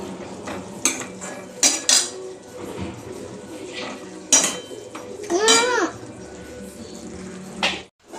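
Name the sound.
stirring cauliflower vegetable curry in pan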